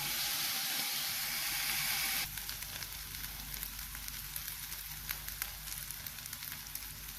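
Chopped onion sautés in a pan with a steady broadband sizzle, loud and dense for the first two seconds, then settling into a softer, crackling fry with scattered pops.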